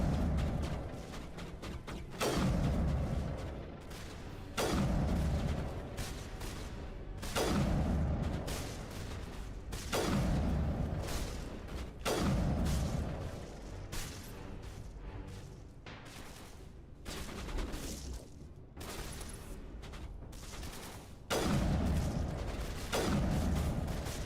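Gunfire in the video game Mass Effect Legendary Edition: a series of heavy, booming shots at irregular intervals, each with a sharp attack and a short rumbling tail over quiet game ambience.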